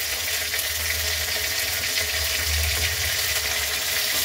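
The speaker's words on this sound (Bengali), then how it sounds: "একটু হালকা ভেজে নেব।" Taro chunks fry in hot oil for a Bengali fish curry, giving a steady, loud, continuous sizzle with no pauses and no talking.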